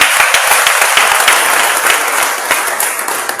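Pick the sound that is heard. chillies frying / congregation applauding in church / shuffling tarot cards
congregation applauding in church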